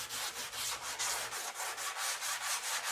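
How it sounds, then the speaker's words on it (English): Epoxy primer on a 1970 Dodge Dart Swinger being hand-sanded in even back-and-forth strokes, a close, rhythmic raspy rubbing repeated about a dozen times in a steady cadence, with no talking. "this stuff is sanding real smooth and easy"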